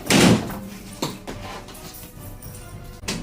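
A door slammed shut indoors in a home, a loud heavy bang followed by smaller knocks and thuds and a second bang near the end, close by with background noise and no talk.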